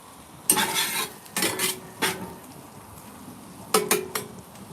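Garlic and mushrooms sizzle gently in a pan over moderate heat, stirred in a few distinct scraping bursts with quieter frying between them, close and clear with no talking.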